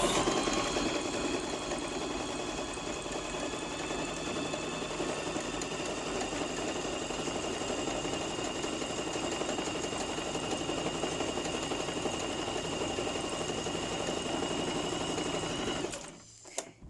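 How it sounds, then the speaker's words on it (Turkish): A Singer sewing machine runs continuously while stitching a fabric mask, a loud close even whirring drone that stops abruptly at the end. "Dikişimize başlıyoruz."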